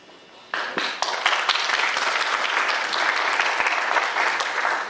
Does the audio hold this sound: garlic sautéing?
no